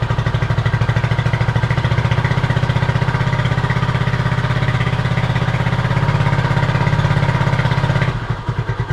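A Honda CB250RS motorcycle engine runs steadily at about 2000 RPM, a loud, even, close-up pulsing drone that holds for roughly eight seconds before the note shifts and falters near the end.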